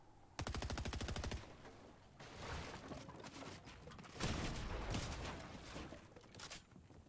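Fortnite gunfire during a match: a sustained rapid burst of automatic fire, then scattered shots and overlapping volleys that continue at varying loudness through the rest of the exchange.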